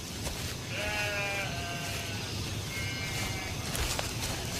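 Sheep bleat several times in drawn-out wavering calls over a steady outdoor hiss, moderately close and alone without any voices.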